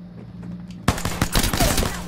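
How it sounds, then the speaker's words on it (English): Rapid bursts of video game gunfire erupt suddenly after a quiet stretch with a low hum, continuing as a loud, dense volley to the end. "I'm getting shot at."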